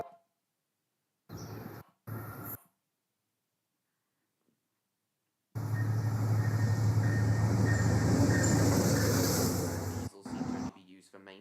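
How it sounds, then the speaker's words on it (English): An Amtrak Acela train rushes past with a loud, broad roar that holds for about four seconds and then fades. Two short bursts of similar noise come before it, with near silence between them. "Here comes another Acela."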